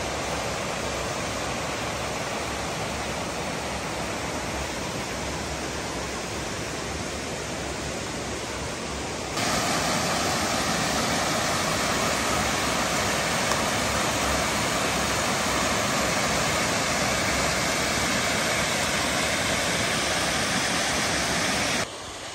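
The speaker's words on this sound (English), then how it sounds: "I remember this waterfall over here." A small waterfall beside the Old Loggers Path trail in Pennsylvania gives a constant, loud rushing hiss of falling water that swells slightly midway and stays steady throughout.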